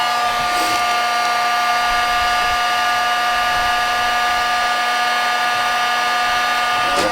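A hot air plastic welder blows steadily while melting plastic filler, a loud continuous whooshing roar with a constant whine that runs unbroken for about seven seconds.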